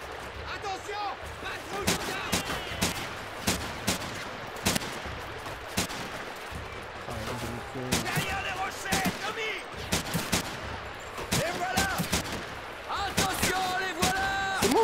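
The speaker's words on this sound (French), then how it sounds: "En fait, je tire sur le rocher là." Gunfire in the World War II shooter Medal of Honor Pacific Assault, at Henderson Field: sharp single shots and short bursts crack out repeatedly and irregularly, some close and loud, while someone talks in between.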